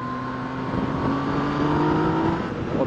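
A Yamaha MT-09 motorcycle engine pulls hard under acceleration with a steady, rising drone and a brief quickshifter change, loud and close on board with no talk.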